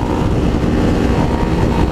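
Yamaha MT-03 motorcycle accelerating downhill in a top-speed run beside a Ninja 300, its engine a steady loud roar buried in heavy wind rush for the whole stretch.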